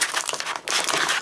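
Plastic blister packaging of an official Nintendo GameCube controller being cut open, loud close crinkling and crackling in two bursts separated by a short pause.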